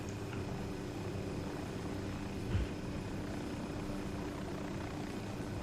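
A helicopter flying in the Ghost Recon Wildlands game gives a faint, steady rotor and engine drone that holds evenly throughout, with a brief soft thump near the middle and no talking.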